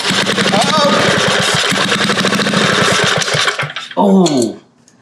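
A vintage Cat Duster minibike's small engine is pulled over and catches, chugging loud and close with a rapid uneven rhythm. A short revving burst follows before it drops away, and a voice speaks under the noise.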